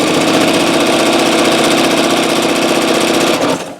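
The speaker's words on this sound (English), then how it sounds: "I'm just gonna stitch that down very close to the edge of the binding" A sewing machine stitches close to the edge of a Minky quilt's binding, a rapid, steady mechanical whir with an even needle rhythm that runs loud and continuous before stopping abruptly near the end.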